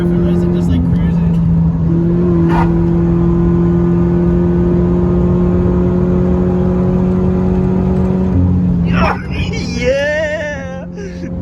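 Toyota Rally 86 engine holding a steady, loud drone through corners as it cruises, with a brief whoosh midway and a burst of rising revs near the end under a little talk.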